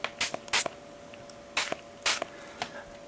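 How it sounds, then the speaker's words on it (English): Glasses sprayed with a spray bottle: several short, crisp hissing bursts in an uneven rhythm, close and fairly quiet, with brief pauses between pumps and no talking. "my glasses, I will generally either spray these like this"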